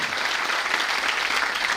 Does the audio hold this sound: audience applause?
yes